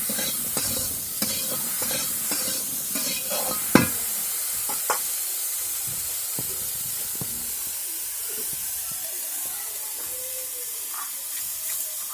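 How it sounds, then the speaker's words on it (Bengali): Chunks of elephant foot yam with salt and turmeric sizzle softly in a pan. A spoon stirs and scrapes with a few sharp knocks early on, then a steady quiet hiss of frying continues. "লবণ হলুদ দিয়ে দিলাম, এবার একটু ভাজা করে তারপরে জল দেবো।"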